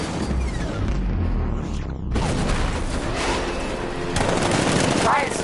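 Tank cannon and rapid gunfire in the video game Batman Arkham Knight, a loud sustained barrage of bursts and booms with a sharp break midway, then continuing heavily with a voice faintly beneath.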